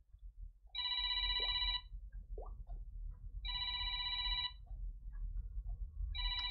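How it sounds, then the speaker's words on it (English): A phone ringtone rings in three loud bursts of repeated electronic trills, about a second each, separated by gaps, with low room rumble underneath and no talking. "I can hear my phone ringing and nothing I can do about it."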